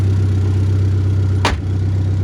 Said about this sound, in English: it's still obnoxiously loud because the exhaust is broken